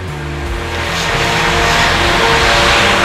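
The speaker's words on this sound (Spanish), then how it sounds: "Es una zona de mucho paso de coches" Cars on a busy street in Valencia near the El Saler shopping centre, engines and tire noise swelling as traffic passes close by, a loud continuous rush that builds over a few seconds with no talking.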